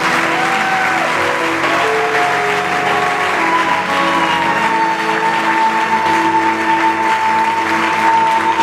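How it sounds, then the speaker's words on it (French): Congregation applauding and cheering steadily in a church service, a dense sustained wash of clapping that holds for several seconds, with organ or keyboard tones ringing underneath. "Peut-on donner au Seigneur une bonne offrande d'acclamation?"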